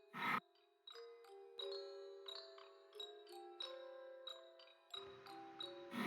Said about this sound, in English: all I can hear is like the chimes